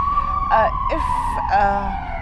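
A police siren wails steadily in the background, its tone gliding slowly downward, while people talk over it.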